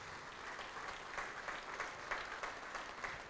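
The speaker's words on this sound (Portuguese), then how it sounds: "Vamos aplaudir mais ao nome do Senhor." A church congregation applauding during a worship service, a fairly soft, sustained patter of many hands with swelling bursts and no voices over it.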